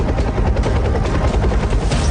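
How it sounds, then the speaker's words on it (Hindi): An Indian Air Force Chinook helicopter flying, a loud, steady roar of rotor and engine with a rapid pulsing beat throughout, with no voices. "Chinook helicopter"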